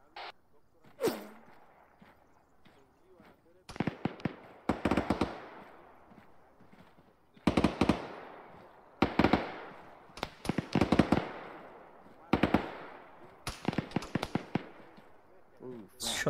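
Gunshots during a military video game combat patrol, with sharp cracks in single shots and rapid bursts, some close and loud, others farther off, and voices talking between the volleys.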